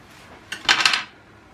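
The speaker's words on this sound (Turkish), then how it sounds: "Şimdi öncelikle bir avokadomuzu keselim." A knife cuts into an avocado in a home kitchen, giving one short clattering, scraping burst of blade and utensil contact, close and clear against a quiet background.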